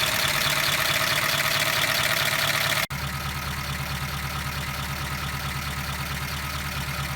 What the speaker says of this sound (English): So we know that engine is running.